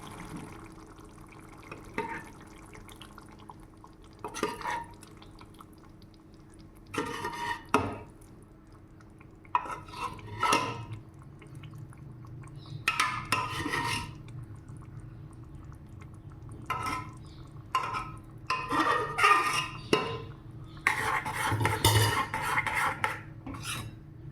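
Intermittent clatter of a utensil against a pot, with wet plops and splashes of thick cooked dal and kidney beans being poured in, close by, no talking.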